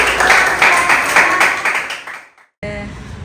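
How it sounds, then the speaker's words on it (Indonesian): A classroom of students applauds a classmate, a burst of close, brisk clapping that fades out after about two seconds, followed by a short silence and then quieter room sound. "tepuk tangan dulu buat teman kalian"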